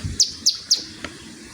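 A mountain ciblek, the caged songbird kept in training for regular song, gives three sharp, bright chirps in a quick, evenly spaced run, followed by a softer fourth note, close and clear with no talking.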